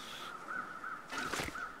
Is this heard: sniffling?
no